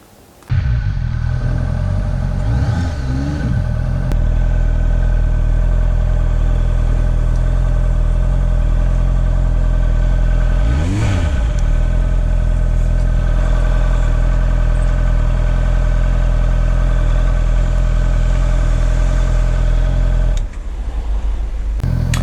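A motorcycle engine idles and rumbles steadily while pulling into a pub car park in the South Wales valleys, with a brief rev in the middle and a small change near the end.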